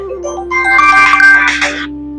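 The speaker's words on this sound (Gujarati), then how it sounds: "કોનો ફોન આવ્યો પાછો?" Incoming call on a phone, a loud, close electronic ringtone playing a short bright melody that swells and fades within about two seconds.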